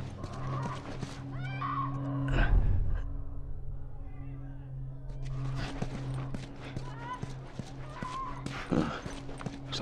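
Horse in the video game The Last of Us, with snorts, a whinny and hoof clip-clops over a steady low game ambience, while characters talk.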